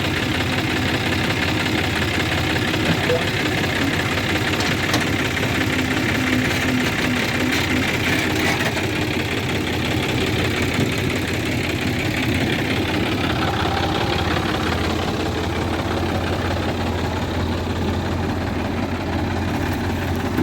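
Engines of a new JCB 3DX backhoe loader and a John Deere 5045 D tractor running steadily while mud is loaded, a loud continuous low rumble with idling throb and no break.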